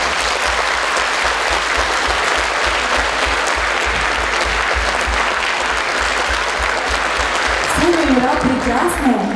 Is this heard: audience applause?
yes